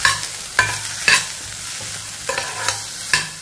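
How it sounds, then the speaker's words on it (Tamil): Sautéing vegetables in a pan for a soup: a steady sizzle, broken by a handful of sharp scraping stirs at irregular intervals, close by, with no voices. "எல்லாத்தையும் நல்லா வதக்கிக்கோங்க"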